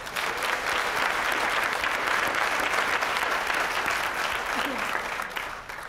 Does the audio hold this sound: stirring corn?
no